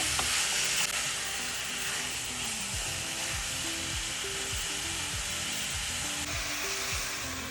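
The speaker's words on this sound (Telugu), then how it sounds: "ఇప్పుడు దీనిలోనే టొమాటో ముక్కలు కూడా వేసుకొని ఒక్కసారి అంతా మిక్స్ చేసుకొని" Tomato pieces stirred into a sizzling chicken curry in a pan, a constant loud frying hiss with repeated scraping strokes of the spoon against the pan, close and without talking.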